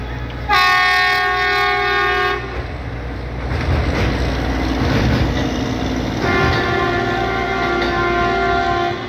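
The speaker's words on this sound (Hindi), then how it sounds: "और ये है आपकी 0-53-36 कासगंज काशीपुर पैसेंजर।" Kasganj-Kashipur passenger train hauled by a WDP4D diesel locomotive passes close by, with two loud sustained horn blasts over a heavy, continuous rumble of the engine and rolling wagons.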